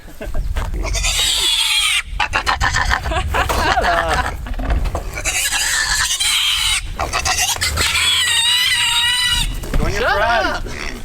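A Red Wattle pig held by its back legs on pasture squeals loudly and close in repeated long, piercing bursts with brief gaps, while people talk over and between the cries.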